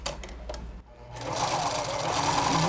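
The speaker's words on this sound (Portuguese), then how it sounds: "Aqui tem que ser bastante retrocesso, tá bom?" A sewing machine backstitches on a patchwork carnival princess crown, stitching in short bursts, pausing briefly, then running in a longer steady close whir.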